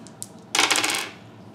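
Dice for the Pathfinder card game rattle and clatter onto a table in a short, bright burst of rolling clicks that fades within half a second, after a couple of faint taps.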